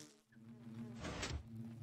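Iron bees from the All the Mods 8 Minecraft modpack give off a faint, steady insect buzz that swells briefly in the middle.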